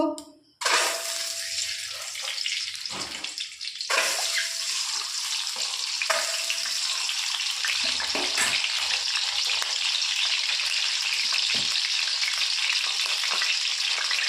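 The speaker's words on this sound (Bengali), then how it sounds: "আমি ডিমগুলো ভেজে নেব।" Eggs frying in a pan, with a few clatters at the start before a loud, steady crackling sizzle settles in and continues to the end.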